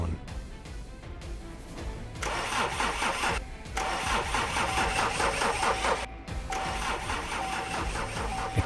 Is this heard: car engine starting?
yes